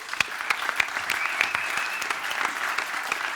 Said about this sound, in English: Thank you very much, guys. A round of applause.